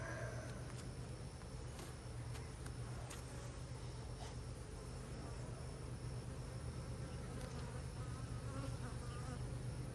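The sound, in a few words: honey bees buzzing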